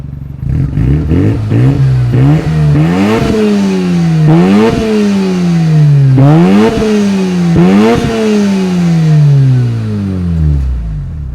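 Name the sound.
Mazda RX-7 FD3S Type R engine revving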